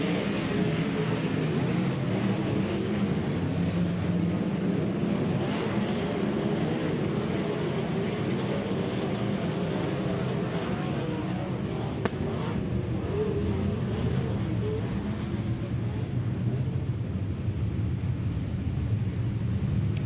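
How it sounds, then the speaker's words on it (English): Field of about nineteen dirt-track race cars at Silver Dollar Speedway, running behind the pace truck before a Gold Cup Race of Champions, their engines rumbling and climbing in revs as a dense, steady roar throughout. "we hear the RPMs raise"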